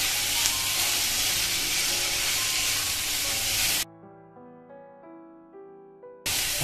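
Wild saffron milk cap mushrooms frying in a pan while a wooden spoon stirs them, a loud steady sizzle for several seconds that suddenly cuts to quiet with a faint tonal hum before the sizzling returns.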